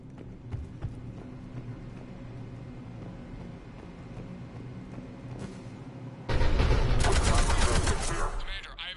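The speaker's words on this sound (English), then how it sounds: "Cannon fire is clearing the way." Heavy cannon fire in Mass Effect 3 erupts as a dense, loud barrage of rapid blasts after several seconds of quieter rumbling battle ambience.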